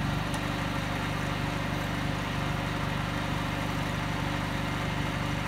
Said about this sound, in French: ce qu'on entend, c'est le moteur électrique.